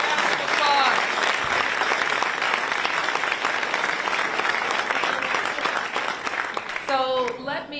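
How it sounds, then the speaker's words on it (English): An audience applauds at an announcement of the deal for a new Washington Commanders stadium at the RFK site, a loud sustained burst of clapping that tapers off as a voice starts speaking. "Give them a round of applause."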